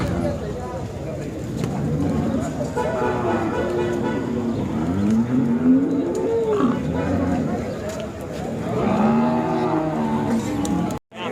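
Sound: cow mooing

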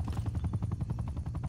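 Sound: attack helicopter in video game Call of Duty Cold War

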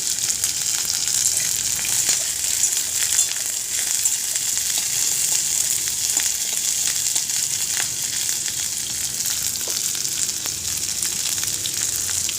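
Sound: chopped ginger frying in hot oil

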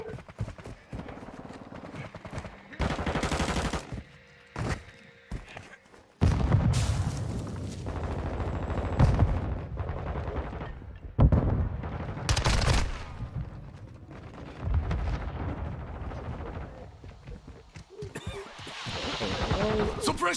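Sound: shotgun fire in video game Modern Warfare 2

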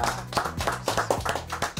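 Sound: applause for Marcela

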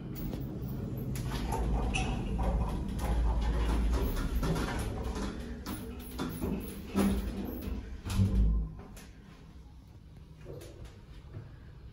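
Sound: Schindler M Series hydraulic service lift moving, loud shaft noise

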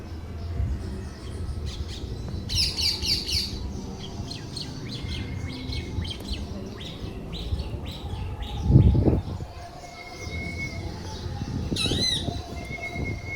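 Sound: parrot calling

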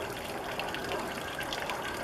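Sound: potable antifreeze draining out of camper water tank onto ground

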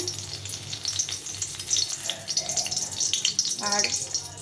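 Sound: dried red chillies frying in hot oil

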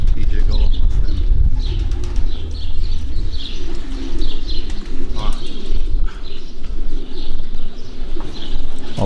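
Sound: racing pigeon arriving at the loft

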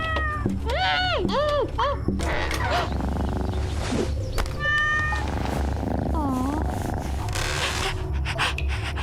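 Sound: cat meowing

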